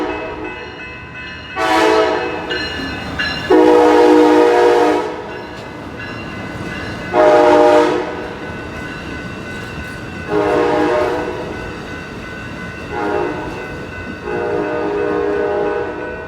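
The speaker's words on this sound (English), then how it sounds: "So here it is, Amtrak train number 531, the Capital Quarter." Amtrak Capitol Corridor passenger train in Oakland rumbles past with repeated loud horn blasts in a long series, rising and falling over steady rolling rail noise.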